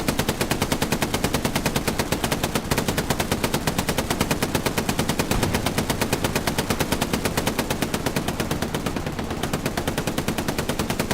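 Machine gun fire in a video game, a long steady burst of rapid, evenly spaced shots, loud and continuous throughout with hardly any pause.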